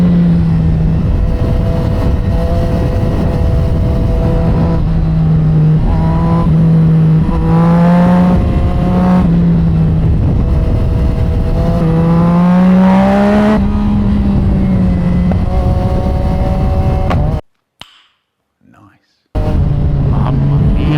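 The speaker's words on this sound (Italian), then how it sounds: "Senti che bei scoppietti che ti lascia quando gli dai un tocchettino di gas." A Yamaha MT-09 motorcycle engine revs loudly nearby, rising and falling through several throttle blips, then cuts out briefly before roaring back.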